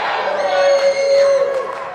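A wrestling event crowd chants and cheers loudly for the Chainsaw King, sustained tuneful voices in unison filling the hall for a couple of seconds.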